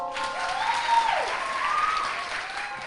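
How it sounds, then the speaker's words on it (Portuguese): Young students applaud at a private school in Belo Horizonte, steady clapping heard under a tonal musical sweep that rises and falls across the short span. "Uma iniciativa que merece os aplausos dos pequenos estudantes."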